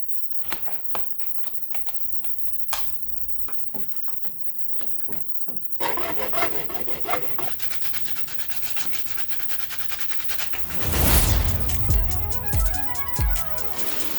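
Lamp socket ends being sanded by hand so it fits inside a jar: short scattered rubbing strokes at first, then denser continuous sanding that grows louder and rougher toward the end.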